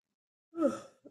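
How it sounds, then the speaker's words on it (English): A single long, breathy yawn from a spirit medium relaxing during a live mediumship session, rising and then trailing off, followed by a brief soft vocal sound; close and fairly quiet with no other voices. "Nice yawn as I relax into spirit."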